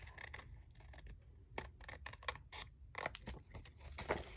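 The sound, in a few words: scissors cutting paper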